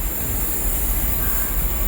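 Train pulling into a station platform, a continuous loud rumbling and rolling wheel noise with a high whine above it, steady throughout, no talking.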